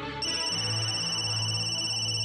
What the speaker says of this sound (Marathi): कोणाचा फोन आला?